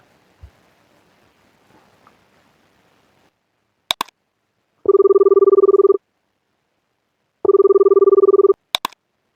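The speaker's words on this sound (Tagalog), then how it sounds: "tawagan ko mga tropa" Telephone ringback tone heard when calling friends, two steady electronic ring bursts of about a second each with a pause between, preceded by clicks and beeps of a phone being dialed, clear and close.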